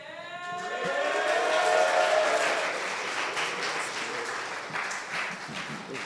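A church congregation at a worship service breaks into sustained applause and cheering that swells quickly, peaks, and then carries on as a dense, steady wash of clapping.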